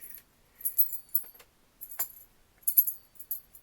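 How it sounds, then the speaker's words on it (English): A bunch of keys jingles close by in short, bright, metallic bursts that start and stop irregularly, with brief quiet gaps between the shakes. "I hope the jingling of my keys isn't that irritating."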